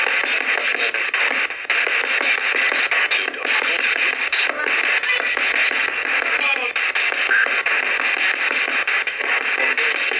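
A spirit box radio sweeps through stations in a hotel, producing loud, continuous choppy static with rapid bursts and fragments of broadcast voices breaking through, steady for the whole stretch.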